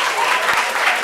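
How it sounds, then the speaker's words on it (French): Applause from a small group at a casual French-speaking gathering, a dense steady patter of clapping filling the whole moment at close range. "Applaudissements pour ça"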